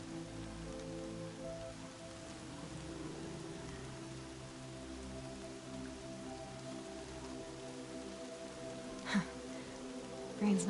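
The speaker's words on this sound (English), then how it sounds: "Rain's not so bad." Steady rain falls in a PS4 video game as a constant, even hiss over a low tonal background, with a brief sharp sound near the end.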